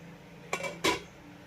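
A metal lid lifted off a pot of steaming egg-free sponge cake, with two quick clinks of metal against the rim a moment apart, close and fairly quiet, followed by silence.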